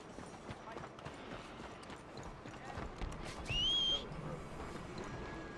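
A horse in Red Dead Redemption 2 gallops with steady hoofbeats, and a whinny rises briefly near the end. People talk over it.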